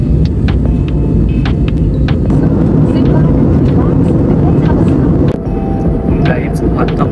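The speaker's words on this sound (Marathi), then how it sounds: "पहिल्यांदा विमानात बसलेली" Steady loud airliner cabin drone in flight, a dense continuous engine and air roar throughout with faint scattered clicks and cabin sounds.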